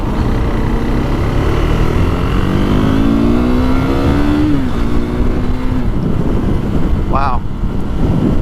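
A KTM RC 390 single-cylinder sport motorcycle revs upward in a smooth rising pitch and then settles back, recorded up close over heavy wind noise while riding. A brief chirp is heard near the end.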